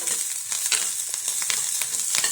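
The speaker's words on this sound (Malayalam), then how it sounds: "വെച്ചിരിക്കുന്ന തേങ്ങാക്കൊത്തും കൂടെ ഇട്ട് കൊടുക്കുക. ഒന്ന് ഇളക്കി കൊടുത്തേക്കാം." Torn dried chillies and coconut pieces fry in a pan, a bright, close crackling sizzle broken by quick stirring scrapes and small pops.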